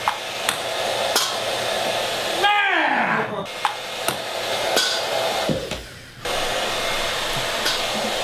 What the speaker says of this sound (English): The only reason I bought this blow dryer.